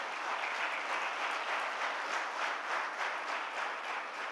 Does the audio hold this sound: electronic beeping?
no